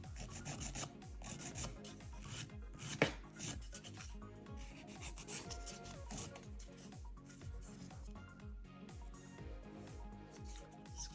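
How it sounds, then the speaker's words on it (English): A nail file rasps against press-on nails set on a peel base, a close, dry scraping in quick repeated back-and-forth strokes that keep an even rhythm throughout, with no talking. "we'll keep filing if we don't find it the first time"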